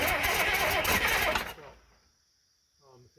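A Case 2290 tractor engine, damaged in a crash, cranks and churns loudly for about a second and a half, then cuts out abruptly into near silence before a brief low rumble returns at the end.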